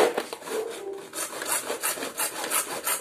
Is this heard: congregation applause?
no